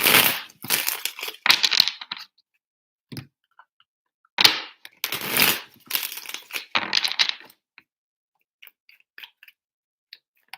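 Tarot cards being shuffled three times, heard as sharp, crackling bursts of card noise in quick clusters, then tapering into scattered faint taps near the end, with no talking.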